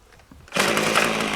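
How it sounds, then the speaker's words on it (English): A sharpened brush cutter revs up abruptly after a soft idle, settling into a loud, steady high-pitched engine whine up close. "the brush cutter is working better after I sharpened it"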